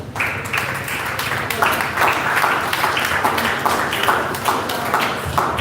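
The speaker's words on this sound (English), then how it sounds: "I know you guys are clapping for this." An audience at a personal finance talk claps steadily and fairly loudly, a dense patter of many hands that carries on throughout with no voices over it.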